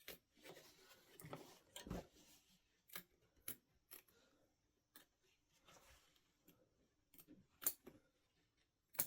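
Small embroidery snips clip through stitches in quick, quiet snaps, a dozen or so irregular cuts close up with faint rustling of fabric between them.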